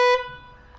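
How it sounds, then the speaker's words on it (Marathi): A newly fitted motorcycle horn gives one short, loud, close beep with a bright tone that cuts off quickly into a quiet ring. "हॉर्न आलाय नवीन गाडीला."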